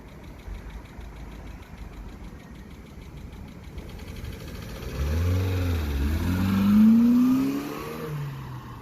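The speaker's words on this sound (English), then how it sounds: "That was a stock flyby." A Vauxhall Astra H 1.4 SXi on its stock exhaust drives past, starting as a distant engine hum, then swelling into a louder, nearer pass with a rising whine before fading slightly, with no talking.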